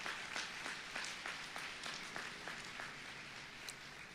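Audience applause at a University of Maryland spring 2021 commencement ceremony, steady clapping from a large crowd with scattered louder claps, continuing evenly for several seconds.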